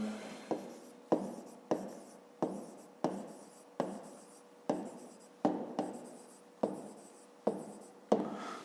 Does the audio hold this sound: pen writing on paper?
yes